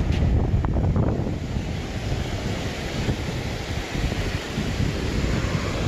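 Ocean surf rolling onto a beach as the tide comes in, a steady loud wash of breaking waves with wind buffeting the microphone, no voices.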